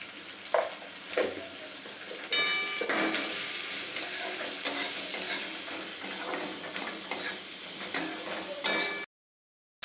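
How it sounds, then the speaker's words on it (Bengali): Chopped onions sizzle in hot oil in a pan while being fried until lightly browned for a Bengali kolmi shak stir-fry, with a steady hiss broken by repeated scraping stirs of a spatula close up before an abrupt cut to silence. "এগুলোকেও আমরা একটু হালকা লাল করে ভেজে নেব"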